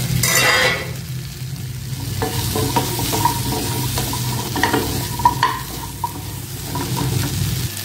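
Cut drumstick (moringa) pieces are stirred and sautéed in a pan, with a steady sizzle, a loud scrape at the start and scattered clinks and scrapes throughout.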